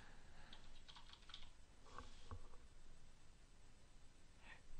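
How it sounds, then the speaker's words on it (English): Soft, uneven keystrokes on a computer keyboard as a password is typed into a login field, with a few sharper clicks near the middle and a faint background hiss throughout. "in these fields I'm going to type in my email and password for my Dropbox account, so I'm going to type that now."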